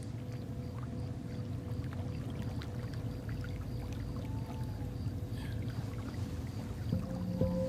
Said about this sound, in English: If you have headphones on, you can clearly hear the water.